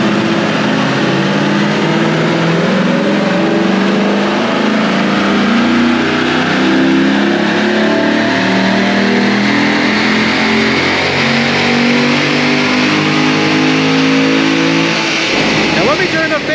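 A naturally aspirated C7 Corvette with a Nick Williams 103 throttle body revs hard and climbs steadily, a loud sustained engine roar that rises in pitch before cutting off near the end.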